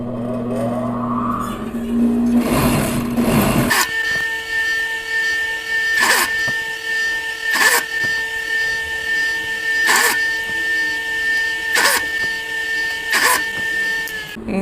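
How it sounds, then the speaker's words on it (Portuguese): A sewing machine stitching bikini fabric runs with a steady mechanical hum, broken by regular clacking pulses about every two seconds. It follows a short stretch of louder handling noise at the start. "Eu vou ligar a máquina aqui, então vai fazer um barulho aí."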